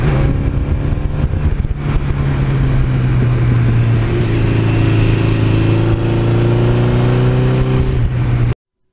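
A 1982 Suzuki GS1100E motorcycle engine runs steadily and loudly up close, with a strong low drone and rising harmonic tones as it revs slightly, continuing alone without talk before cutting off at the end.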